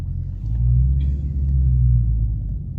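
2020 Dodge Charger Scat Pack on stock all-season Goodyear 245 tires pulling away from a stoplight, a deep, steady low engine rumble that swells briefly and holds, heard from inside the car without talking.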